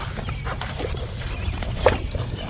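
Hungry puppies whimpering and fussing close by as food is offered, a continuous run of soft whines and small yelps with one sharper cry near the end.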